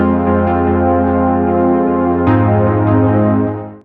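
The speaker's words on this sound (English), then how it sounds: "So the sound was in static notes like this." Sustained synthesizer chord held as static notes, steady and loud with no rhythm, shifting to a new chord about two seconds in before fading out; layered over chords, no voices.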